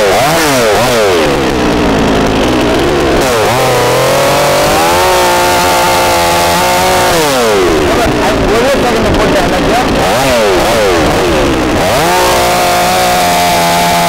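A small motorized wood-cutting machine is switched on and cuts through a log, its engine droning and revving up and down loudly and close by, with people talking over it.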